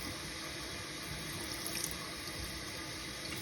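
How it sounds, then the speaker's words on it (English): Warm tap water runs steadily from a faucet to flush out a fountain pen cap, a constant close hiss of flowing water with no talk over it. "So I'm gonna just turn on some warm water and simply flush it."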